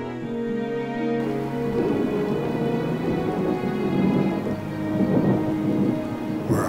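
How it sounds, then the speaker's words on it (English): Steady rain pours through a thunderstorm while rolling thunder rumbles on without a break, loud and close. A sustained tonal music bed runs underneath, and no one speaks. "Looks like a storm's coming, guys."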